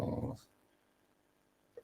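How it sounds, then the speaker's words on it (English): A dog growls in a short, low, close burst that quickly fades to near silence, followed by a faint sound at the end. "Don't you growl at me."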